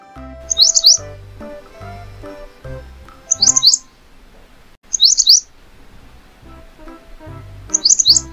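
Four short bursts of bright bulbul chirping, evenly spaced and close, play over a soft melodic music backing.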